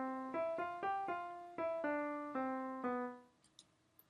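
A short melodic motive played with every note value halved, a quick run of about nine clear, evenly detached pitched notes, close and moderately loud, with no talk.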